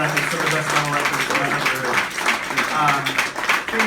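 Audience applause and cheering at a Revolver Music Awards event at Webster Hall for a drummer: steady crowd clapping throughout, under continuous amplified speech from a man on stage.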